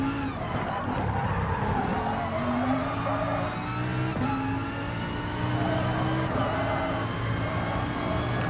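A race car brakes hard on a track, tires skidding and squealing under a steady, loud engine drone, with a voice speaking briefly over the noise.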